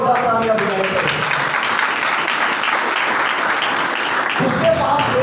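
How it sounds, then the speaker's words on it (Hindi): A church congregation applauds loudly during a sermon, with dense, continuous clapping that fills the moment and a voice heard over it at the start and end. "जोरदार तालियां बजाइए।"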